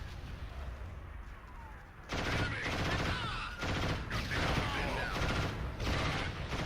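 Sustained machine gun bursts from the video game Killzone (2004), loud and close, starting abruptly after a quiet stretch and continuing in dense rapid volleys with brief breaks between them.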